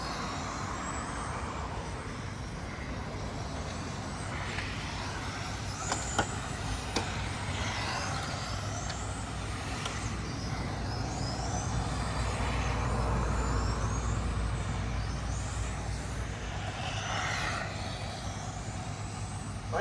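VTA class RC cars race around the Seatac RC Raceway track, their small electric motors whining and rising and falling as the cars pass by, a continuous mid-distance buzz over a low background rumble.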